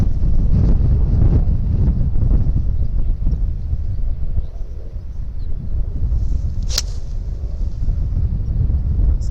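Wind gusts across an open golf course and buffets the microphone with a loud, low rumble that swells and eases throughout, with one brief sharp tick partway through and no voices.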